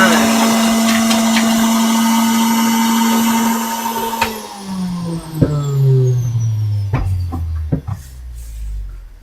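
A juicer or blender runs loudly on carrots, celery, apples and ginger with a steady motor whine, then spins down over several seconds to a low rumble with a few clicks and knocks at the end.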